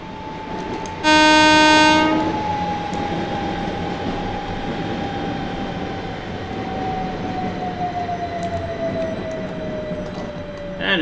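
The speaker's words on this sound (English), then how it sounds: "hear a train arriving heading towards Stratford" A London Overground train pulls into Highbury and Islington in Train Simulator 2020, bound for Stratford: a loud horn blast at the start, then a steady rumble of rolling stock with a long, slowly falling whine as it arrives.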